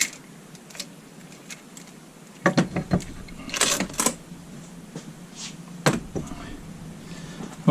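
Metal clanks and rattles come as a chain is taken off the truck of a Morris 7.5-inch gauge train engine, a cluster of sharp knocks mid-clip and a single later clink over low background noise.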